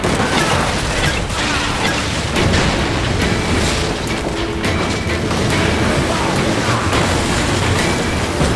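Ship cannon volleys in Assassin's Creed Black Flag roll out as a continuous barrage of heavy booms and rumbling. The blasts overlap loudly throughout, with faint shouted voices mixed in.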